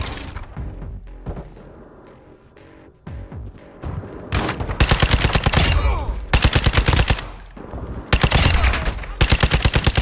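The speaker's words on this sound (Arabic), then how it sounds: "شوف رمي بس ما ادري وين" Video game gunfire in an extraction mission, rapid automatic bursts that grow loud and dense, with quieter rumbling gaps between several sustained volleys.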